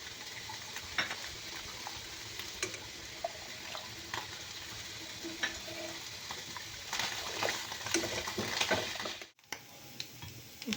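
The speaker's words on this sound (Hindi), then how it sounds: "ये देखिए मशरूम फ्राई होना शुरू हो गए हैं।" Mushrooms fry in a pan with chili sauce and soy sauce, a soft continuous sizzle with scattered clinks and stirring, swelling louder near the end before a brief cutoff.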